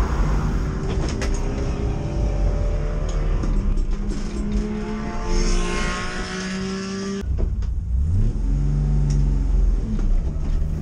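A Porsche race car in a racing video game accelerates hard on a wet track and its rear end breaks loose into a spin. Steady, loud engine drone with shifting pitch, and a sharp change near the end.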